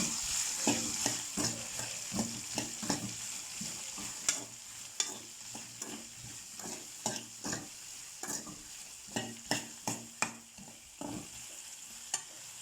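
Okra frying in oil with salt, stirred in a pan: repeated scraping stir strokes at an uneven rhythm over a steady close sizzle, with no talking.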